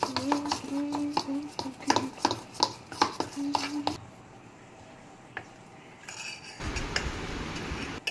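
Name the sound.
mixing gram flour paste with mustard oil for pomfret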